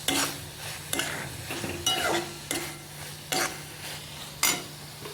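Ginger garlic paste for a raw banana sabzi is stirred in a pan under a soft sizzle, with about six distinct scraping strokes of a spoon against the pan at a steady, unhurried rhythm.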